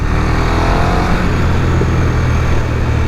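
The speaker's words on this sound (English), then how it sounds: "Exhaust sounds amazing stock. It's weird. You can hear the brap." Stock exhaust of a KTM 1290 Super Duke R Evo motorcycle rumbles loud and close, a steady, throaty engine drone holding its pitch for the whole stretch.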